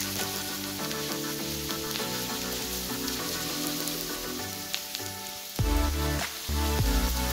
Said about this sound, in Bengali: পেঁয়াজগুলো ভালো করে ভাজবো।